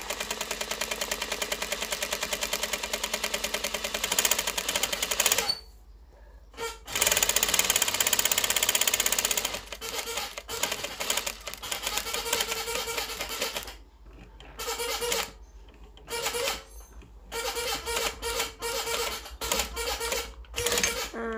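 A sewing machine runs in bursts while stitching around a kurta collar, with short pauses between runs as the fabric is turned; close and steady, with a little quiet talk.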